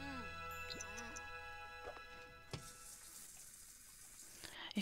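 A Sims character's shower running in The Sims 4: soft tonal game chimes and music play first, then a steady hiss of spraying water starts and continues alone, quiet and even.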